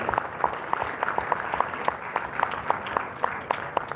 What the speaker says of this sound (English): Please put your hands together and give a round of applause.